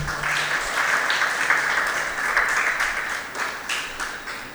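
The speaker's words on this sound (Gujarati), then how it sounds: "જોરદાર તાળીઓથી આપણે વધાવીશું." An audience at a school event in Bhavnad applauds with loud, sustained clapping that fills the room evenly for several seconds, with no voices over it.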